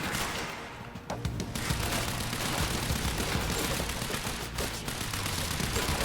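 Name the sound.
heavy machine gun fire in video game Quantum Break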